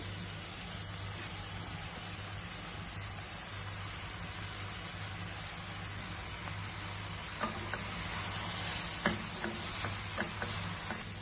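Mushrooms cook in a pan as rice is added and stirred in, a soft steady sizzle with a few light scraping stirs near the end, no voices.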